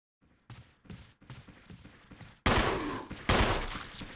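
Quiet dry shots crack one after another, then two much louder bursts of gunfire ring out close by, with no voices, in the video game Resident Evil HD Remaster.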